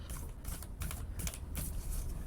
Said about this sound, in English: So I'm going to do a few more shuffles here while on camera.